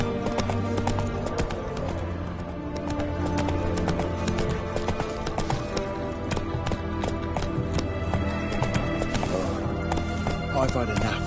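Hooves of Roach, Geralt's horse in The Witcher, clip-clop at a steady gallop across the whole stretch, close and continuous under dense game music and ambience, with a voice speaking over it.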